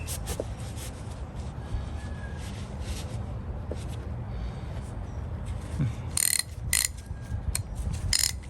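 A flea market ratchet being worked by hand gives a string of quick mechanical clicks that grow sharper and more closely spaced toward the end, heard over a quiet background with no speech.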